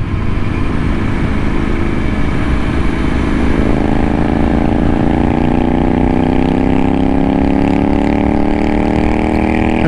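A Royal Enfield Interceptor 650 motorcycle on a test ride drones loudly and continuously close by, its engine pitch climbing steadily as it accelerates, with no voices.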